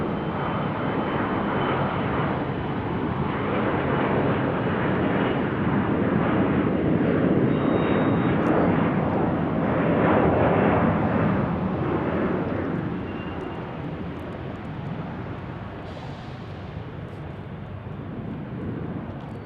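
A fixed-wing airliner roars steadily on approach to land at Salt Lake City Airport, a loud continuous broadband engine rumble that swells and then eases off slightly toward the end.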